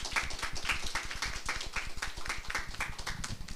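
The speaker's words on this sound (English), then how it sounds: "Can we give a round of applause to them?" A small audience claps steadily for a panel of speakers at a city discussion event, with dense, even clapping continuing throughout and no talking.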